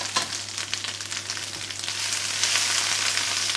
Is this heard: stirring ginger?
yes